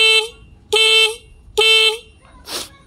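Horn on a Yamaha Mio motorcycle wired through a relay, three loud steady honks of about half a second each, then a short hissy burst, close and clear.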